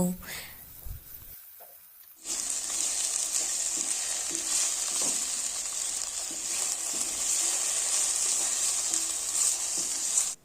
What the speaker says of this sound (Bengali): এরপর আমি এর মধ্যে পেঁপে এবং গাজরগুলো যে হালকা সিদ্ধ করা ছিল সেইগুলো দিয়ে দেব